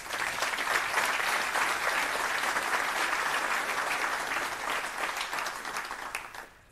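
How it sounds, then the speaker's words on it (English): A talk-show audience in Deventer gives sustained, dense applause after the pipes and drums of the Canadian Scottish Regiment play. The clapping stays loud and steady and then tapers slightly at the end, with no talk over it. "Can I have applause for them, please?"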